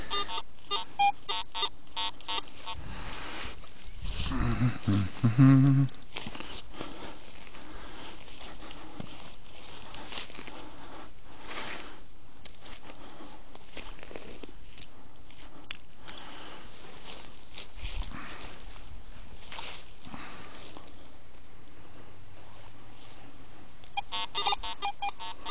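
A metal detector sweeps a field, giving short electronic signal tones over a steady background hiss. A brief cluster of beeps sounds near the middle, with scattered faint clicks around it and no talking.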